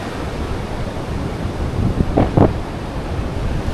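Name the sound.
sea waves at the beach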